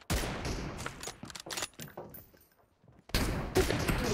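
Gunfire in the PUBG Mobile video game comes as a cluster of sharp, close shots, then a lull and a louder burst at the end, with no talk heard.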